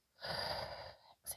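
A single deep breath drawn in during a yoga exercise, a soft airy rush lasting about a second, followed by a brief sharper breath sound, close and quiet.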